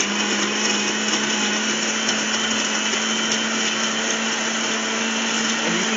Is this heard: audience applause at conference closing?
no